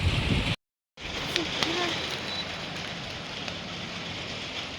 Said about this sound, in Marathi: जोराचा पाऊस येतोय